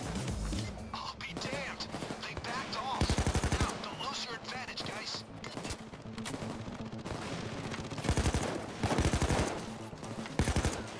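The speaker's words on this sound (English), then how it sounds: "Sentry guns on the roof, just laying waste." Roof-mounted sentry guns in the heist shooter Payday 2 rattle off rapid automatic bursts, loud and repeated across a chaotic firefight, with players talking over the shooting.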